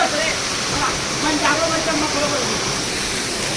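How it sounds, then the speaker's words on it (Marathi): A small waterfall at the Manudevi temple near Jalgaon gives a steady, close, full rushing roar of falling water without a break. "एक छोटासा वॉटरफॉल आहे"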